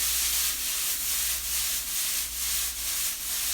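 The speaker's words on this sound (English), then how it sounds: "Now for our first stirring." Peppers searing in a hot pan are stirred, giving a steady hissing sizzle with rhythmic scraping strokes repeating roughly every half second, close and clear with no talk.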